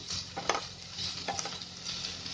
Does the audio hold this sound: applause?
no